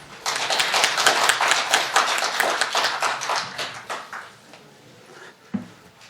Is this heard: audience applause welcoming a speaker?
yes